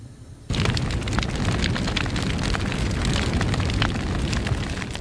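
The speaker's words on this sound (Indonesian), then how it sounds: "Seketika menciptakan ledakan dahsyat yang dengan cepat melahap seisi rumah dengan api besar." In a horror video game, a house explodes and is engulfed by fire: after a brief quieter lead-in, a sudden loud blast gives way to a dense, continuous roar of flames that stays strong to the end, with no talking.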